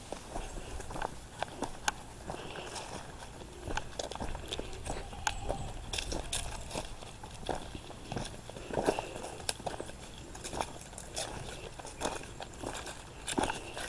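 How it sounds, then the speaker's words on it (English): Goats on a ranch walking and munching through crunchy fallen autumn leaves, giving steady soft crackles, rustles and small crunching steps close by, with no talk. "The goats love those crunchy leaves."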